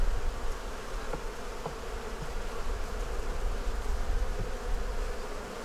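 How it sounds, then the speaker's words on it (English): A honey bee swarm buzzes steadily around its hive, a dense, continuous drone of many wings held close and fairly loud, with no voices over it. "Bees are doing good."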